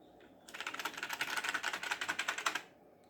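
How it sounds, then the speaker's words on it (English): Fast, even keystrokes on a computer keyboard as data is entered, a close burst of clicking lasting about two seconds between quiet stretches, with no voices. "So whenever you are typing the data"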